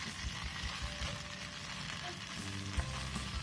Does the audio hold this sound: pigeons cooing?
no